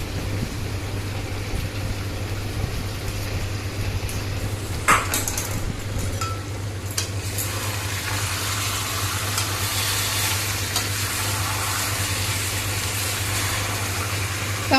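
Chicken kosha frying in a pan, a steady hiss and low hum with occasional clinks and scrapes as the chicken is stirred, a brief louder clatter near the middle.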